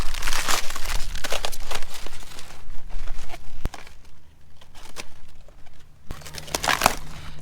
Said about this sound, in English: So I am using it to cut cabbage.